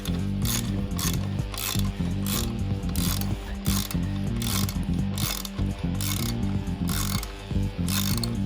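A socket ratchet tightens an anchor bolt for a rack, giving a steady run of loud, close ratcheting clicks in quick rhythmic bursts across the whole clip, with no talking.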